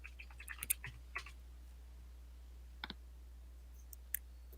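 Sparse, irregular clicks of someone typing on a computer keyboard, a few quick keystrokes bunched early and then isolated taps, faint and close-up over a quiet room hum with no talking.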